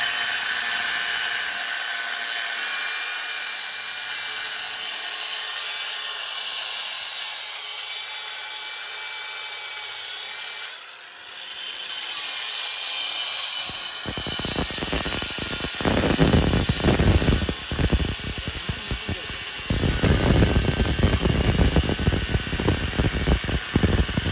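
A Parkside PWSAP 20-Li cordless angle grinder cuts through an old thin-walled Soviet steel pipe, its whine giving way to a loud, rough, gritty cutting roar in the second half, alone and up close.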